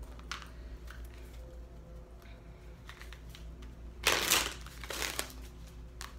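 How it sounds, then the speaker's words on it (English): Tarot cards being shuffled: soft rustling and light ticking of handling, then two brief louder bursts of cards riffling together, close by and otherwise quiet. "while I'm shuffling"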